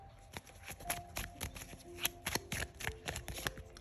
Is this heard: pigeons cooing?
no